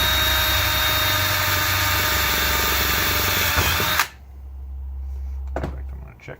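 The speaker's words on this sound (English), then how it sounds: "as soon as I get this first hole drilled, I'm going to put the screw in" A power drill boring a screw hole through a skateboard deck whines loudly and steadily for about four seconds, then cuts off, leaving a low hum and a couple of faint knocks.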